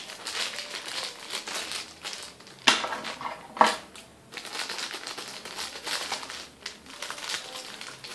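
Scissors cut through heavily taped plastic toy packaging, crinkling and rustling with a few sharp snips and clacks, close and fairly quiet with no talk.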